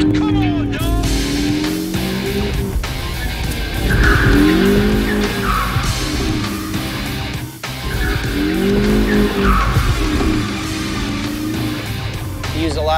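A car skids through a reverse entry spin at a driving camp, tires squealing loudly in two long sweeping bursts over a steady engine roar, close by.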